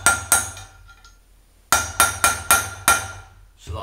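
Sharp metallic hammer blows drive a front wheel bearing into a Honda CB500 wheel: two quick strikes, a pause, then five evenly spaced ringing impacts and a final tap, close and loud with no talk.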